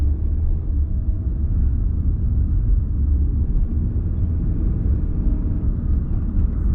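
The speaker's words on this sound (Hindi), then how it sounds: "इस टाइम देखो कितना ट्रैफिक हो गया सड़कों पे।" Heavy road traffic at peak hour: a continuous low rumble of many vehicle engines and tyres, steady and fairly loud throughout with no clear individual passes and no talking.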